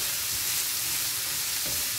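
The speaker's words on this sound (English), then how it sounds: "Give it a bit of a mix around, let it do its thing, get all sizzly soft." Carrots and celery sizzle in a frying pan with a little salt, a steady, close, hissing fry with faint stirring underneath and no voices.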